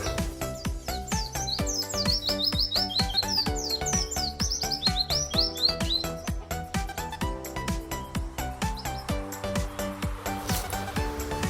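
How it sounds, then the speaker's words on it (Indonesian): A pleci (white-eye) bird sings loudly and close, rapid chirping phrases and tweets repeating in quick bursts over a busy background of rhythmic clicks and tones. "Itu biasanya pleci akan mulai bernyanyi dengan lantang, mulai nembak-nembak"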